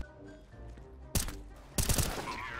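Two loud bursts of gunfire from CS:GO, the first near 1.1 s and a longer, denser volley near 1.8 s, both breaking sharply over a quiet game background.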